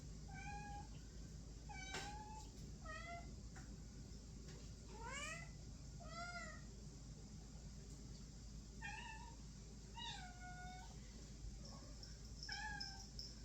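A cat meows repeatedly in short, rising and falling calls scattered across the clip, fairly soft, with a faint constant background hum.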